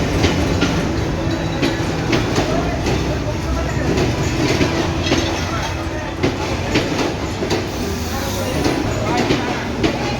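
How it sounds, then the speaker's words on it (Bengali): The 727 Up Rupsha Express from Khulna to Chilahati rolls onto line 1 at Joypurhat railway station, a loud continuous rumble with rhythmic wheel clatter close by, and a voice speaking over it. "খুলনা থেকে ছেড়ে আসা সিলাটিগামী 727 আপ রূপসা এক্সপ্রেস এই মুহূর্তে জয়পুরহাট রেল স্টেশন 1 নম্বর লাইনে প্রবেশ করছে।"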